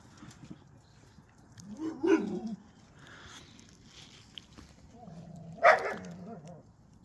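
A dog growls in two short low rumbling bursts while chewing on lung, a quieter one early and a louder one near the end, with faint background noise between.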